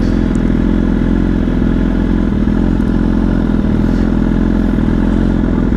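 A BMW S1000RR motorcycle engine idles close by on a Manhattan street, a loud, steady, throbbing rumble with mechanical clatter that holds evenly throughout, with no talk over it.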